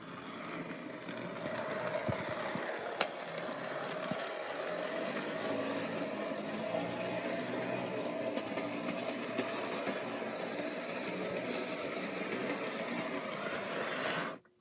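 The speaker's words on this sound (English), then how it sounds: "DC locomotive on the tracks with DC transformer" A toy DC diesel locomotive's motor runs on its track, powered through a DC transformer: a steady, close whirring hum that holds evenly for about fourteen seconds, then cuts off abruptly.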